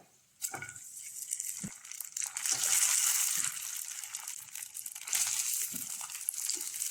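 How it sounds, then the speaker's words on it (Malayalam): Quartered idli pieces drop into a hot pan and roast, giving a sustained crackling sizzle that swells after a sharp start, with occasional scraping stirs and no speech. "ഇഡലി നമ്മൾ ഇട്ട് കൊടുത്തിട്ടുണ്ട് ഇനി ഇഡലി നമുക്ക് ഇതിനകത്ത് നിന്നിട്ട് ഒന്ന് റോസ്റ്റ് ചെയ്ത് കൊടുക്കാം"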